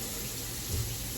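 A kitchen tap runs steadily into a sink for washing dishes, a faint, even hiss of flowing water with no talking.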